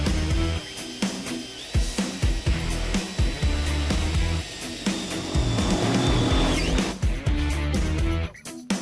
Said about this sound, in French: Karl enlève donc toute la limaille de fer à l'aide d'un aspirateur